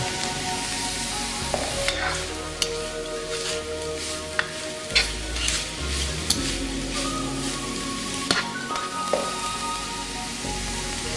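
Celery is stir-fried in a hot pan for spring rolls, giving a dense, continuous sizzle like rain on a surface, broken by sharp spatula clicks and scrapes, with no talking.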